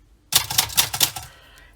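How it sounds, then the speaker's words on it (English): A cursive typewriter clacks through a quick run of about eight sharp keystrokes, close and loud, ending in a fading mechanical ring. "it is a cursive typewriter"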